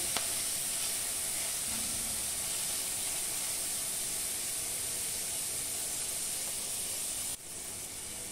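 Onion frying in well-heated oil in a pan while Goa-style usal is made, giving a dense, steady close hiss and sizzle that barely changes throughout, with a slight drop in loudness near the end.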